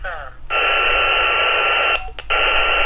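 Weircom UV5R Mini handheld radio with its squelch opened, giving a loud steady hiss of static that runs for about a second and a half, drops out briefly, then returns.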